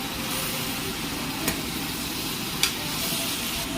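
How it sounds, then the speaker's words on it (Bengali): Curry with turmeric stirred and turned over in a pan, a continuous dense sizzle broken by two brief scraping clicks of the spoon against the pan, close and steady, with no voices. "আমি একটু উল্টা পাল্টা করে নাড়াচাড়া করে দিই।"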